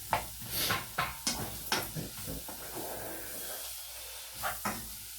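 Leeks and onions fry in a pan with a soft, steady sizzle, while a utensil scrapes and stirs in several evenly spaced strokes, fairly quiet and close, no voices.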